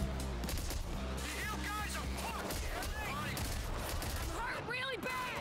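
Automated turret firing in the Payday 3 video game: rapid volleys of gunshots over a dense mix of in-game combat noise, with whistling and sweeping effects and some game voices underneath.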